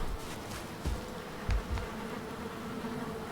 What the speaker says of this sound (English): I went up here and got my bees.